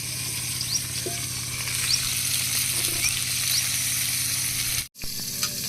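Shol fish fry in hot oil with a steady, dense sizzle that runs almost the whole way through. The sizzle is close and even, cut by one brief drop near the end, with occasional small clinks and no talking.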